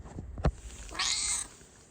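A cat gives a short chirp, then a single drawn-out meow, fairly close and quiet, with no talking.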